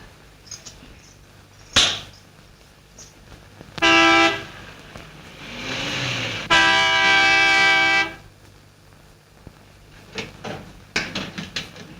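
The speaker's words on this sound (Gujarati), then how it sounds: "કેટલી વાર હોર્ન વગાડું છતાં એને કોઈ ફાટક ખોલતું નથી" A car horn honks insistently at a closed gate in a Gujarati film scene. One short toot comes first, then two long, loud blasts follow over faint background noise.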